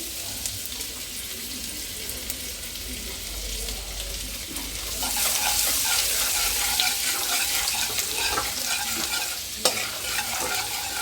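Chopped garlic frying in oil in a pan, a steady sizzle that grows louder midway, with stirring scrapes and a sharp clink of a utensil near the end.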